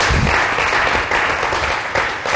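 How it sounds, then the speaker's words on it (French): Audience at a worship gathering applauding the king of kings, a dense and steady wash of clapping that fills the whole stretch with no voices on top. "on peut acclamer pour le roi de rois"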